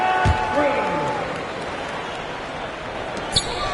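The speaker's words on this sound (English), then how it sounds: "Give a big round of applause to your defense." Crowd applause and cheering fill an NBA 2K basketball game arena during a timeout. A steady, dense wash of clapping and crowd noise comes from around the court, with a sharp ball bounce near the start and a brief sharp sound near the end.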